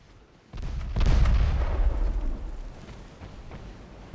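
Heavy warship guns fire in the naval video game Ultimate Admiral Dreadnoughts, one deep booming salvo that quickly swells into a loud rolling rumble and slowly fades over several seconds.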